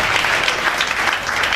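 A church congregation applauds during a prophetic service, a dense crowd of hands clapping steadily and loudly for a brief burst.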